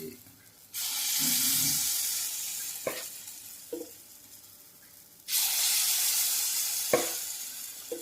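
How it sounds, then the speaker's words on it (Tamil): Sweet paniyaram batter poured into a hot pan sizzles in two loud bursts. Quieter stretches with a few sharp clicks and clinks of utensils come between them. "ஆமாம், எங்கள் வீட்டில் பனியாரத்தை ஊற்றியாச்சு"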